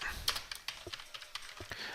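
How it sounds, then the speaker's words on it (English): Rapid typing on a computer keyboard, quick irregular bursts of sharp key clicks close up, with no talking. "I am typing quick, so apologies if you're going to get some typos in."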